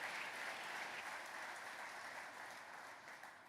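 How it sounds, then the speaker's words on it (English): A large crowd at a Tesla event in Texas breaks into sustained applause, a thick, even wash of clapping that starts full and slowly tapers, heard faintly from a distance. "A huge round of applause, please."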